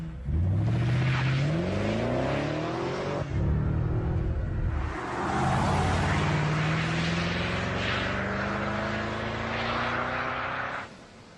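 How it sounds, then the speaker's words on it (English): BMW 6 Series engine and exhaust revving up loudly in two long rising sweeps, pitch climbing with each pull before briefly dropping between them, close and alone. "There's still some fine-tuning we have to do on the exhaust system to get the sound just right."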